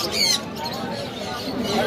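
A sharp, harsh parrot squawk rings out near the start, followed by busy crowd chatter and general market noise at the Mirpur 1 bird market.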